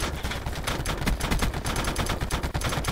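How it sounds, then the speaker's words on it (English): Mounted turret firing in Call of Duty Blackout, a rapid, steady stream of loud, close shots pounding without pause for the whole few seconds. "He wanted to have a turret battle"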